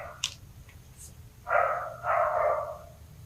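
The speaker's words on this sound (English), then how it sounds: "my neighbors let their dogs out." Neighbors' dogs barking outdoors, a couple of longer, moderately loud barks or yelps at mid-distance following a few faint sharp sounds, over low background rumble.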